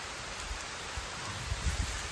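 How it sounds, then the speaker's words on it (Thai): Steady rain falling outdoors at night during frog hunting, a soft constant hiss with faint low thumps, no voices. "โอ้ฝนตกนะครับผม"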